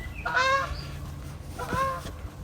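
Two bursts of goose honking, a few calls each, separated by a brief pause, fairly close and clear.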